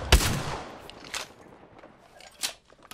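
Gunfire in the video game Apex Legends: a sharp nearby shot opens the clip, followed by a few scattered fainter bursts and clicks over quiet in-game ambience.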